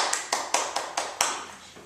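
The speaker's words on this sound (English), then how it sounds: "clap your hands." Six or so crisp, evenly spaced hand claps in a quick steady rhythm, close and fairly soft, as a group claps along during a children's pizza rhyme.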